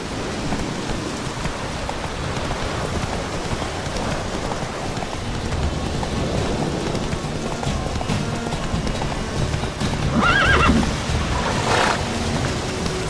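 A horse gallops in The Witcher 3: Wild Hunt, with steady, continuous hoofbeats over an ambient outdoor game soundscape, briefly growing louder near the end.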